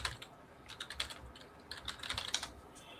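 Quick, light clicks of typing on a computer keyboard come in irregular bursts, close but faint, with no one speaking.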